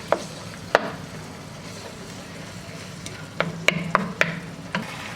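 Stirring creamy beef and potatoes in a pan, with a soft scraping and bubbling bed broken by a few sharp spoon knocks against the pan, close and moderately quiet.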